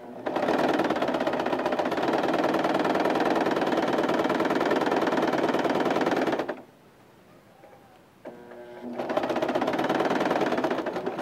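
A sewing machine stitches down the straps of a shirred summer dress, running in a loud, fast, even whir for several seconds, stopping briefly with a few small clicks, then starting up again.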